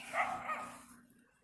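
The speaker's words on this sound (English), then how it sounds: "Dog barking." A single short dog bark, fairly faint, fading quickly into quiet.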